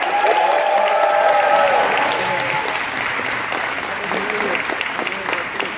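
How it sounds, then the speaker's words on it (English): An audience bursts into a loud round of applause at a Dollywood winter presentation, dense clapping that starts strong and tapers slightly while a voice speaks briefly over it. "round of applause"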